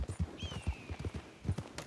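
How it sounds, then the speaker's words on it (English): Horse hooves clop in a quick uneven rhythm while glitching in the video game Red Dead Redemption 2, close and moderately loud, with a faint thin whistle-like tone sliding over them. "there's our horse glitching out"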